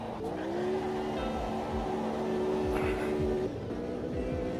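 A race car in a sim racing game threads a chicane on a UK track, its engine holding a steady droning note with a brief shift in pitch, tyres scrubbing faintly underneath, loud and continuous throughout.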